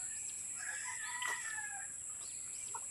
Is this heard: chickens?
yes